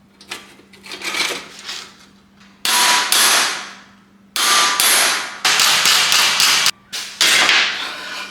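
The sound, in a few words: hammering sheet metal to bend a rust repair patch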